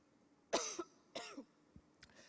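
A woman coughs on stage during a speech, two close, harsh coughs, then a short throat clear, with no talking.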